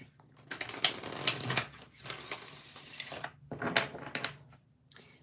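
Playing cards being shuffled in several quick riffling bursts separated by short pauses, close and fairly quiet.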